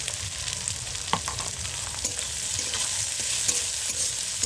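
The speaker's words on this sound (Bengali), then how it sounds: "দেখো পেঁয়াজটা একটু ভাজা ভাজা করে নিলাম" Onions frying in a pan for a snail curry, a steady close sizzle with occasional stirring scrapes and clinks of a utensil, no talk.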